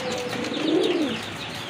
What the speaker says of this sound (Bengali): এখানে কিন্তু এক জোড়া স্ট্রেচার কবুতর আছে